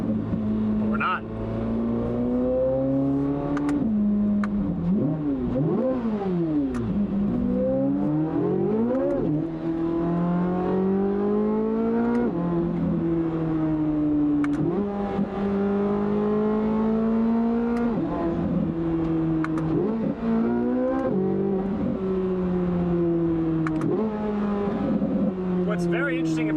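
A Corvette Z06 with a Valvetronic Designs titanium exhaust and OEM downpipes revs hard and repeatedly, its loud exhaust note rising and falling in pitch, steady and close throughout.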